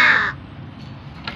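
A fighting rooster lets out one short, loud, harsh call right at the start, close by, followed by near silence.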